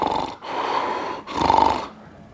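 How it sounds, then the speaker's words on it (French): A sleeping person snores loudly and close by, two long rasping inhalations separated by a brief pause, rough and throaty. "je m'entends ronfler, mais vraiment"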